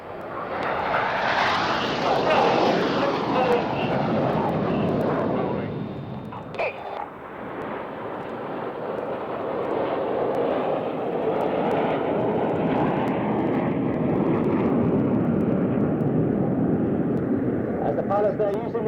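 Rolls-Royce-powered aerobatic jets in diamond formation roar loudly overhead at an RAF Waddington airshow as the team climbs vertically to change formation. The engine noise is broad and sustained, dips briefly mid-pass, then swells again while a commentator talks over it.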